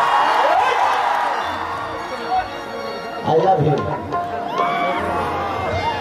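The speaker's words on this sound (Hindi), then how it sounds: "एक जोरदार हल्ला करके ताली बजा दो सबके स्वागत में" A crowd at a singer's stage show in Maulapur, Pataura, Nepal cheers loudly, with whoops and shouts swelling in bursts over a busy murmur and a voice speaking through it.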